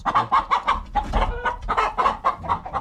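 A hen clucking in a coop, a close series of rhythmic, repeated clucks and short calls, clear and alone.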